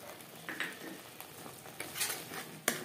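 Whole spices and powdered masala, with salt, red chilli and turmeric, fry in a pan for cabbage paneer while being stirred, giving a faint sizzle under soft, irregular scrapes and light clinks.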